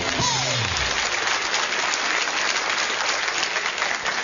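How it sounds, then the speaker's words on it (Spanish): Studio audience applause on a 2008 Chilean quiz show, a dense, steady wash of clapping that stays loud from start to finish, with a brief falling tone at the very start. "¡Un aplauso!"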